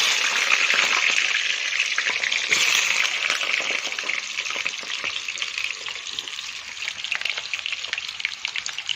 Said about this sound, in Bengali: তার আগে আমি আলুটা ভেজে নেব।